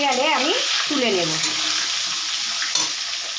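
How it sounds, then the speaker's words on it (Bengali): Eggplant pieces fry in hot oil with a bright, continuous sizzle and stirring, close and loud, while a brief voice sounds at the start. "এবারে ওই তেলের মধ্যে আমি বেগুনগুলো ভেজে নেব"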